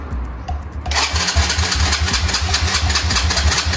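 A neglected buggy left outdoors for ten years, started on its electric starter in third gear with the clutch in; a quiet moment gives way at about one second to a loud, steady, continuous engine roar that runs to the end.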